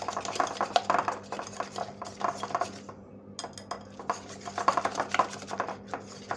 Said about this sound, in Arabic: كده هنقلب الخليط كله مع بعض